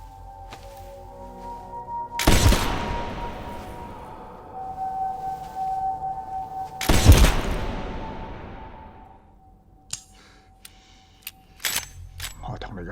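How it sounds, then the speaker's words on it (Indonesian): Two loud, sharp gunshots in a Hong Kong revenge film, a few seconds apart, each with a long echoing tail, followed by quieter clicks and knocks. "Jonathan tanpa ada rasa bersalah melepaskan tembakan ke tubuh Chan."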